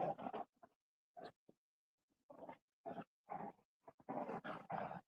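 A dog growls in low, guttural bursts of varying length, separated by short silences and close to the listener, with no talk over it.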